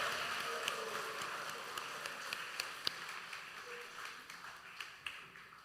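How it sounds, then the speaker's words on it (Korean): A church congregation claps steadily for a row of children bowing in greeting during a Sunday service, a soft continuous patter of applause heard from a slight distance. "우리 어린이들이 인사할 때 큰 격려와 박수 해주시기 바랍니다."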